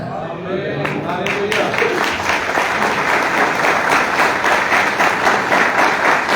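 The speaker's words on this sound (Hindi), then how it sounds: "जोरदार तालियां" Loud, sustained applause from a church congregation during a Sunday sermon fills the space, steady dense clapping from a large crowd close by, with faint voices beneath.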